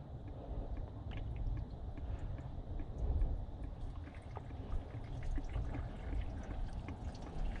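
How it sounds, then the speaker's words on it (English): Coolant draining from the thermostat housing of a GM 3800 V6 engine, a steady trickling, splashing pour of liquid running continuously at close range with no talk over it. "She's draining all my little coolant."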